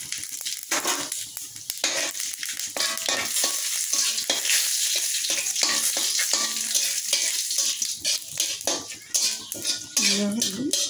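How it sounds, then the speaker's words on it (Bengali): Bay leaf, dried chilli and cumin seeds crackle and sizzle steadily in hot oil for dal tempering, with repeated clinks and scrapes of a metal spoon against the pan throughout. "ফোড়ন ভাজা হয়ে গেছে।"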